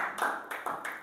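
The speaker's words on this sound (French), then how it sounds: "Acclamons pour la parole du Seigneur, bien-aimé" Church congregation clapping in acclamation, three quick rounds of close claps in a short rhythmic burst.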